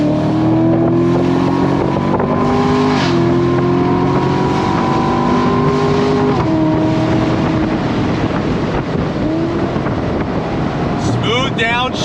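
A Chevrolet Corvette C7 Grand Sport V8 pulls hard in second gear on a test track, its steady engine drone rising in pitch through the revs with a brief dip mid-pull, heard from inside the car over wind noise.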